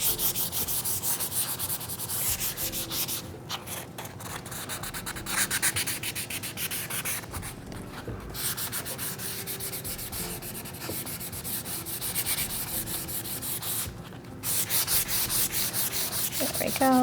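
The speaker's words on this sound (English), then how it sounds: "when you're wet distressing and you want to distress a flat area, make sure your sandpaper is nice and wet" Sandpaper rubbing back and forth over painted furniture finished with mineral paint and beeswax, wet-distressing a flat area; steady, close scraping strokes continue with brief pauses, alone without talk.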